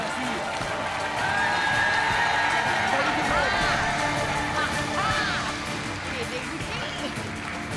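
A studio audience on the French TV game show Money Drop breaks into sustained, dense applause mixed with cheering and voices, loud and steady for several seconds before easing off slightly.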